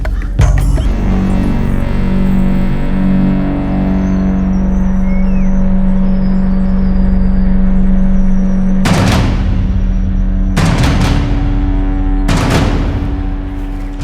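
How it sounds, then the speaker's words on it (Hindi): A vehicle arrives on a crime drama set, its engine droning loud and steady with a low hum before several sharp, booming thuds cut in near the end. "सर गाड़ी आ गई।"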